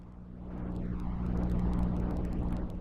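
Card reader crackle from the Traverse lo-fi tape effect plugin by Audio Damage: a swelling low mechanical hum and whir over a steady drone, dotted with scattered sharp clicks and ticks.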